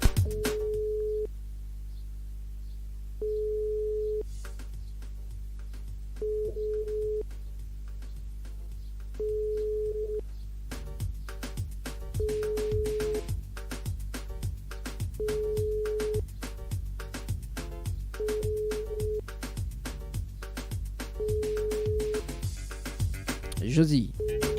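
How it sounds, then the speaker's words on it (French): Repeated electronic ring tone of a telephone line being called during a French-language radio call-in show, steady beeps at even intervals, clear and alone at first, then continuing under busy studio talk and background sounds. "J'appelle Josie du côté de Sainte-Anne"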